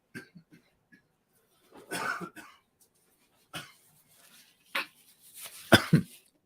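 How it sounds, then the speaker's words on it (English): An adult smoker coughs in a quiet room, a few soft throat sounds and breaths, then several separate harsh coughing bursts, close and loud against silence. "That was a little more of a cough than I smoke-anticipated."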